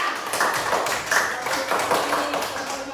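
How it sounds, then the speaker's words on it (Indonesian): A classroom group claps hands together in a quick, uneven burst of claps lasting a few seconds, moderately loud and close. "Tepuk tangan biar kuat"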